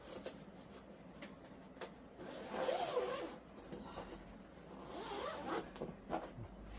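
A zipper on a guitar gig bag is pulled open in several quiet, scratchy runs, each a short rasping burst with handling noise between them, close and fairly faint.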